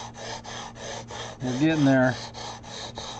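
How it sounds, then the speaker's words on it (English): A sanding block rubs back and forth over guitar fret work in a steady rhythm of about ten even strokes, close and clear, while someone speaks briefly partway through. "I'm not pushing down on this sanding block at all"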